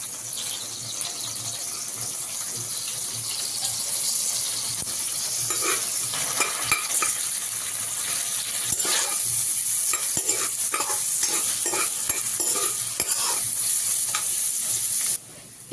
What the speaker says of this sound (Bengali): এবার এর মধ্যে পেঁয়াজ আর লঙ্কা কুচিটা দিয়ে ভালো করে ভেজে নেব।